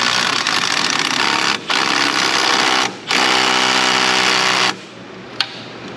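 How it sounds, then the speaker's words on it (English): A small impact wrench tightens a shaft on an engine accessory of a 2003 Ford Mustang GT 4.6, rattling in three close, loud bursts separated by brief pauses, then going quiet with a faint click. "Let's give it some forward clicks here with our little impact."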